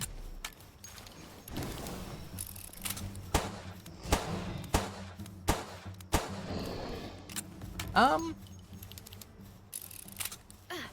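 Gunshots in the video game Palworld, a series of sharp separate reports spaced about a second apart over a low game hum, fairly close, with a brief rising chirp near the end.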